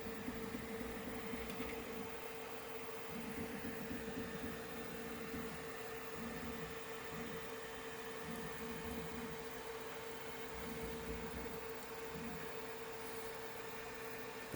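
A Creativity ELF 3D printer moving along its X axis, a quiet steady motor whine and hum with faint rhythmic stepping, alone and fairly faint throughout.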